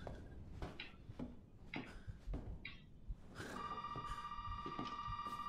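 A telephone rings in the Resident Evil 7 video game on Xbox One. Scattered clicks and footstep-like knocks come first, then a steady electronic ringing tone begins partway through and continues to the end, with no talk.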